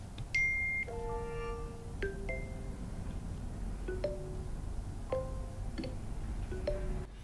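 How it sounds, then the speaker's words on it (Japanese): A series of short iPhone notification tones on iOS 17.2 play one after another, about eight distinct chimes and bleeps with different pitches and patterns, spaced roughly a second apart over quiet background hiss. "こんな感じで通知音をですね、まあ、好みのものに変えていくことができますので"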